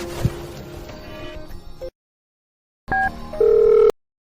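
An outgoing phone call to check on someone rings through, a short burst of noise, a pause of silence, then electronic ringback tones and a sustained tone close on the line.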